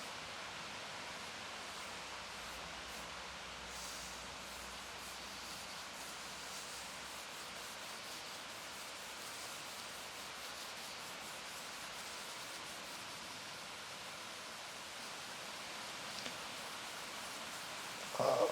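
Wax is rubbed onto a wooden charcuterie board in a steady, faint, hissy scrubbing that holds an even level throughout, with a brief knock near the very end.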